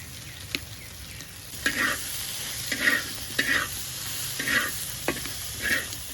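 Kajoli fish sautéing with slit green chilies, salt and turmeric, a steady close sizzle broken by a rhythmic series of spatula stirs and scrapes, with no talking.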